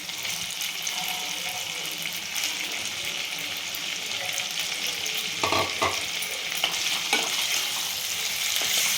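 Marinated cabbage fries in oil over a low flame with a steady, even sizzle, joined by a few louder scrapes and stirring clatters near the middle and end.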